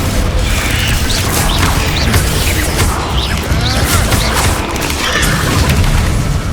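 Bombarda spell explosions in the Hogwarts Legacy video game, a loud continuous stretch of crashing magical blasts and rumbling impacts with whooshing bursts layered on top, no speech.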